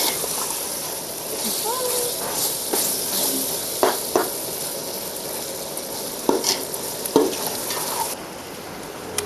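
Ginger, garlic and tomato frying in a pan for chicken biryani, a steady close sizzle broken by scraping stirs and clinks of the spoon against the pan.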